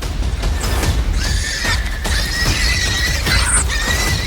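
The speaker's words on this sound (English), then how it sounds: "The piglet squeals and thrashes as dust erupts, but the badger keeps its grip and tries to drag it." A warthog piglet squeals in repeated high, strained bursts while being attacked by a honey badger in thorn scrub, with scuffling thuds and dust-raising struggle close by throughout, no talk.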